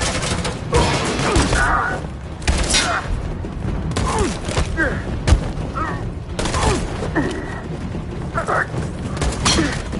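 Suppressing gunfire in Detroit: Become Human, with repeated loud shots, crashes and mechanical clatter in a dense, chaotic mix. Voices shout over the firing.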